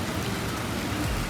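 Heavy Mumbai downpour, a thick, unbroken wash of rain noise, loud and close, with a low rumble swelling briefly near the end.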